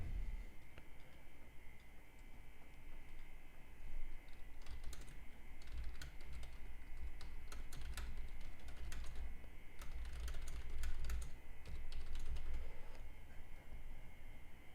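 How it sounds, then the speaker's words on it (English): Quiet, rapid computer keyboard typing in bursts of clicks, close but soft, over a steady low background hum, with no speech. "the typing you hear, that's just me making alerts"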